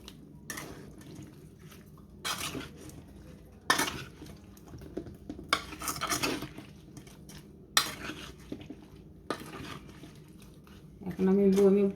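Mango pickle being mixed with salt in a bowl: intermittent scraping and clinking of a spoon against the dish, with wet stirring sounds and a voice talking at the end.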